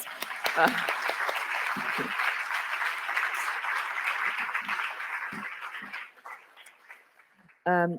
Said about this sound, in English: Give them a big warm applause.